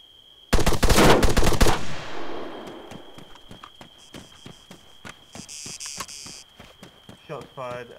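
A loud, rapid burst of automatic gunfire in the ArmA 3 Altis Life video game, trailing into an echo. Scattered softer pops follow over a steady, high, alarm-like tone, and sporadic bursts of activity come near the end.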